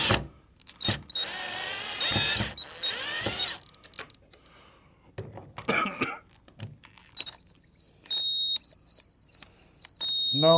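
A power drill in a studio runs in two loud, sustained whirring bursts near the start, then short spurts follow among quieter handling noises and a steady high electronic whine.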